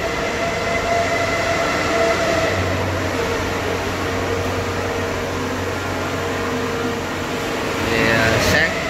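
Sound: Kubota DC 70 rice combine harvester engine running

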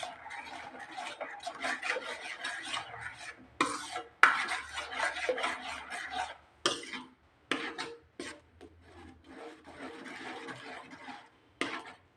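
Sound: continuous stirring of tender coconut halwa in a pan

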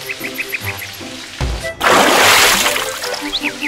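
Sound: watering a cherry tomato plant

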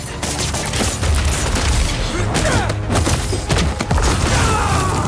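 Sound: flashbang explosion in video game Marvel's Spider-Man 2

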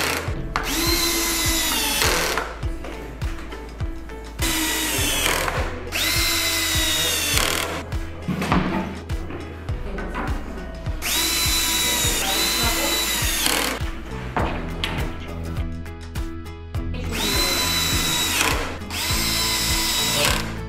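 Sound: cordless screwdriver driving euro screws into a bed frame

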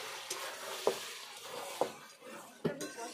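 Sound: chicken curry meat sautéing in oil

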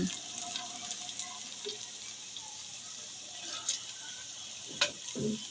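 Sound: onions frying in oil

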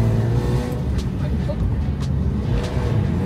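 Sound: Lexus IS200 car being driven

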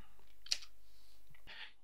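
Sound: pressing Enter key on computer keyboard

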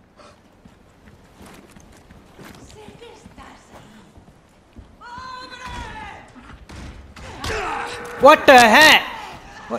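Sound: cow attacking in video game Resident Evil 4 Remake

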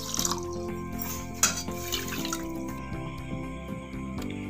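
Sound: pouring water onto sugar for syrup

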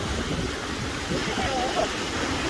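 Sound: ocean waves crashing on Jeju coast

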